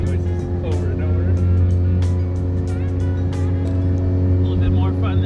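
A restored Mazda FC RX-7 street car holds a steady, loud engine drone, broken by repeated sharp hissing turbo boost bursts that come and go throughout.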